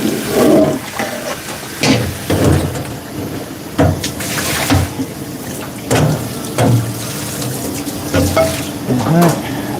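Food being washed under a running kitchen tap at work, loud splashing water rising and falling in repeated surges as items pass through the stream.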